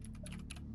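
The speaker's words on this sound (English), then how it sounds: "excuse my tippy tap keyboard" Quick, light tippy-tap keystrokes on a computer keyboard come in a brief clustered burst, close and soft, with no voices.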